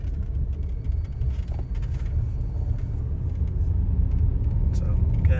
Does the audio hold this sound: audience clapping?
no